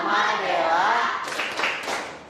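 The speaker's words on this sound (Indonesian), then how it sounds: "kita berikan tepuk salut untuk Dela" Schoolchildren in a classroom give a classmate a rhythmic salute clap. Voices chant at first, then a few short bursts of group clapping follow, fairly close and moderately loud.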